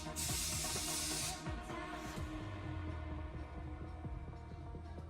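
Brake calipers are cleaned of brake fluid after bleeding with a strong, close spray hiss from a can lasting over a second, then fainter short sprays and a low mechanical drone.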